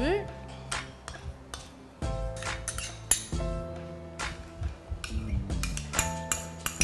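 Metal spoon clinking and scraping against a bowl while melted chocolate is stirred with hazelnut paste for a thin chocolate tart, producing irregular bright taps in clustered bursts, fairly close and loud.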